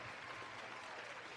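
A short applause sound effect on a podcast, a brief dense burst of clapping and crowd noise, faint and steady throughout.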